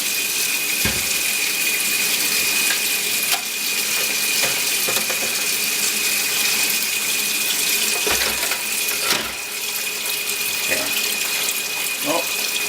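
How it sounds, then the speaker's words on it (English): Cold tap water runs steadily into a container in a kitchen, a continuous bright hiss and splash that lasts throughout, with a few clinks and knocks and brief talk in the background. "Now we're putting cold water in there"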